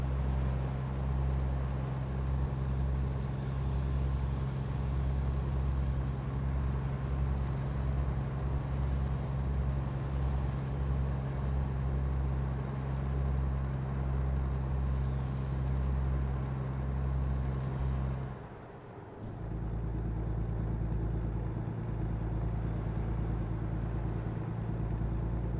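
A heavy truck engine labors in a low, steady drone while pulling a trailer in American Truck Simulator, a continuous rumble that briefly dips and drops out near the end before resuming.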